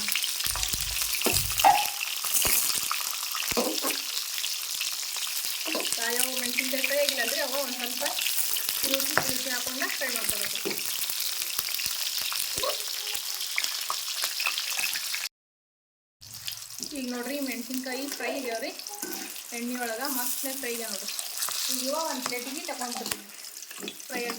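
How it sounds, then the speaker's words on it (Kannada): Green chillies fry in a pan of hot oil, making a continuous close sizzle that runs for about fifteen seconds, cuts out briefly, then resumes, with faint stirring and no voices. "ಎಣ್ಣೆ ಒಳಗೆ ಪೂರ್ತಿ ಅರ್ಧ ಬೆಂದಿರಬೇಕು ಮೆಣಸಿನ್ಕಾಯಿ ಆ ರೀತಿ ಫ್ರೈ ಮಾಡ್ಕೊಳ್ಳೋದು"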